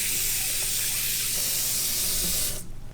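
A faucet runs steadily while hands are soaped and lathered, a constant broadband hiss of water that cuts off abruptly near the end.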